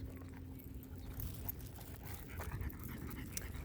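A dog pants softly and steadily at close range, with quick rhythmic breaths in a quiet indoor space.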